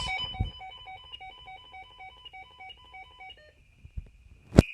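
A burglar alarm keypad: short electronic beeps in quick succession as a user code is entered, followed by a pause and then a louder sustained tone with a click.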